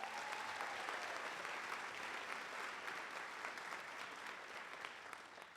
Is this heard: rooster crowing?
no